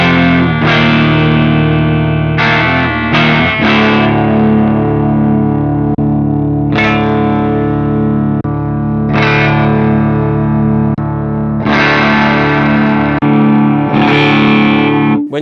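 A clean electric guitar through a Mesa 4x12 cabinet clone impulse response rings out in sustained chords and strummed passages, dense and steady with fresh attacks every few seconds, close and full with no talking.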